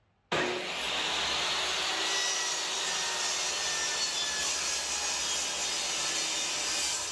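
A saw with its blade tilted to about 15 degrees bevels the edge of a wooden board for a planter box, starting abruptly and then running as a loud, steady, continuous cutting whine with no talk.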